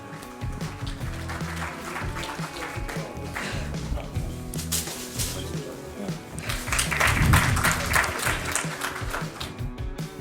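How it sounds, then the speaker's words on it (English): An award ceremony audience claps steadily throughout, with the ovation swelling louder in the second half over a room mix of music and a voice talking. "Can we have a huge round of applause for Medanta"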